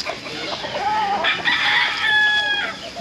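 A chicken crows and clucks nearby, a loud close rooster call with rising and sustained tones, alone without talk.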